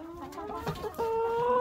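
Hens clucking in a coop that also holds roosters, close tonal clucks and a rising drawn-out call over faint background noise.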